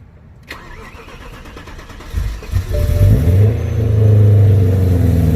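A supercharged BMW E92 M3 with an ESS G1 kit cold starts after a quiet moment and a click: the starter cranks, the engine catches with a loud burst, then settles into a high, steady fast idle.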